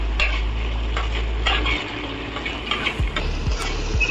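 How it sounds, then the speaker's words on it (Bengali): Onions frying in a pan while being stirred, a steady hiss of sizzling with scraping utensil strokes against the metal, close and fairly loud with no voices. "এবার পেঁয়াজটা একটু ভালো করে ভেজে নিয়ে"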